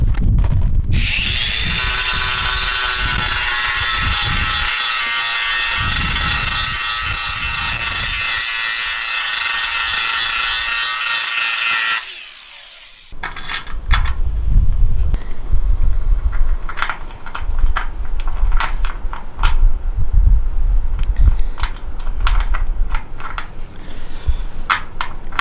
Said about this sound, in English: I'm going to grind off the paint.